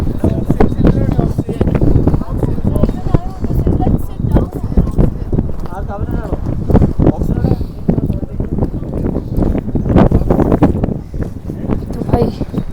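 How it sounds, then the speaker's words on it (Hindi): Cold wind blowing across a high mountain road in Ladakh, a loud buffeting rush hitting the microphone in gusts while someone talks over it. "बहुत ठंडी हवा चल रही है"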